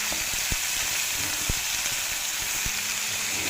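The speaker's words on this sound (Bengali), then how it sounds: "ওটা বেশিক্ষণ ভাজবো না, একটু নেড়ে চেড়ে অল্প পরিমাণে হলুদ গুঁড়ো দেবো" Chopped vegetables fry in a pan while being stirred, giving a steady, close sizzle broken by a few sharp taps of the spoon against the pan.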